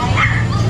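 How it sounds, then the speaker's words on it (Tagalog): Dogs for sale at a morning animal market, including Pomeranians, Beagles and Dachshunds, give a short burst of close, high-pitched yips and barks, with people's voices mixed in. "Ayan, latimang breed ang aso. Pomeranian, Beagle, Dachshund."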